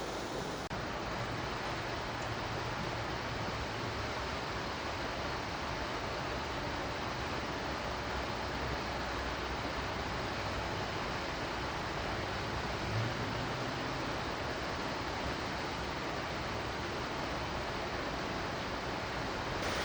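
Wildcat Falls, a waterfall along the Back Mountain Rail Trail in Pennsylvania, heard as a continuous broadband rush of falling water that stays steady and fairly even throughout, with no voices.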